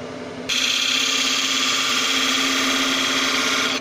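A wood lathe turns a wooden napkin ring, a steady close whir that jumps into a loud, sustained scraping hiss as the tool bites into the spinning wood.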